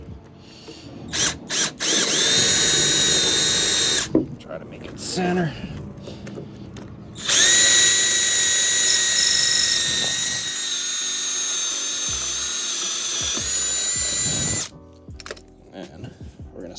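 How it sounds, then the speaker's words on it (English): A power drill bores a hole in wood in two bursts, a short one and then a longer steady run, with a person speaking briefly around it. "We're gonna drill a hole in here."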